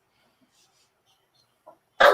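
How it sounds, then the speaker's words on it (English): A single short, sharp dog bark at close range comes right at the end, after near silence broken only by a faint small noise. "the dog started barking at the fire truck on the TV"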